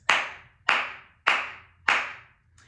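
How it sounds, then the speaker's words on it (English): Four sharp, bright flamenco palmas claras struck evenly about every 0.6 seconds, each crisp open hand clap ringing out alone with a quick decay, plus the start of a fifth at the end. "we can say sharp or clear"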